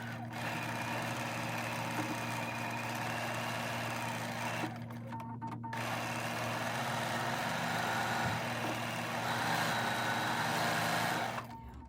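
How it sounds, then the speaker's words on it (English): A sewing machine stitches quilt block pieces in a long, steady run, a continuous mechanical drone with a low hum underneath and a couple of brief pauses, heard alone. "She'll just keep sewing all of them and then turn them around into the other direction."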